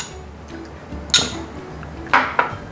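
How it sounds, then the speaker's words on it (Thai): A spoon stirs sugar into water in a bowl or glass for a Vietnamese spring roll dipping sauce, giving a few light clinks against the container over a quiet background. "หลังจากคนจนน้ำตาลละลายแบบนี้นะครับ"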